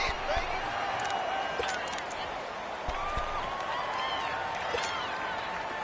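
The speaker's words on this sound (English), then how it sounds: "The crowd here in the Dome making things difficult." Steady crowd roar inside a domed stadium in a PlayStation 4 football video game, a dense continuous wash of noise with scattered thumps and shouts underneath, moderately loud throughout.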